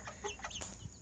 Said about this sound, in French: Ma poule Yandot.